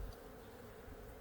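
Honey bees hum steadily at a backyard hive in late March, a faint, even drone with no voices over it.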